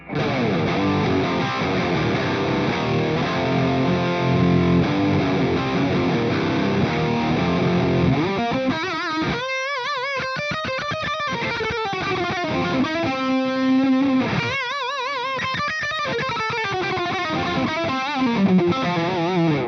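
Overdriven electric guitar through a Splawn Nitro tube amp on its OD1 channel, gain near 11 o'clock, playing crunchy chords and palm-muted riffs with ringing, gritty sustain, loud and close with no talking.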